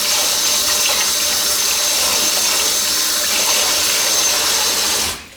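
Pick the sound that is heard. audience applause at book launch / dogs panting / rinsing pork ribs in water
rinsing pork ribs in water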